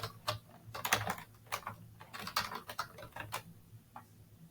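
Computer keyboard typing, a quiet run of soft, irregular key clicks and taps in bursts over a low background hum.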